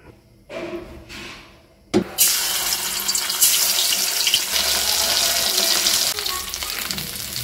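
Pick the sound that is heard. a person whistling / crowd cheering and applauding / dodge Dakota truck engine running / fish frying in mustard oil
fish frying in mustard oil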